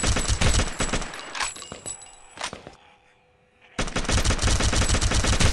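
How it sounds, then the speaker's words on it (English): Gunfire from the video game Gun Builder ELITE 2.0 in zombie mode: loud, rapid bursts of automatic fire, a short lull with scattered shots, then a sustained dense stream of shooting. "I was mostly just tapping my gun a bit, tapping the fire button"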